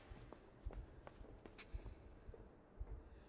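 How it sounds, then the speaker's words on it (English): In the dark side-scrolling game Inside, soft footsteps and a low, steady heartbeat thump pulse faintly and rhythmically through a quiet, murky ambience. "I hear heartbeat and footsteps."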